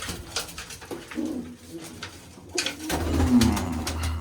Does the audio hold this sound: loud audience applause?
no